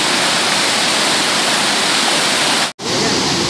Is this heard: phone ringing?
no